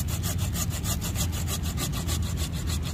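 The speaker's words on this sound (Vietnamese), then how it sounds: "em cưa thử cây mai cho anh chị xem ha" A hand saw rasps steadily back and forth through a branch of a potted mai tree, a rhythmic series of rough strokes, close and continuous with no talking.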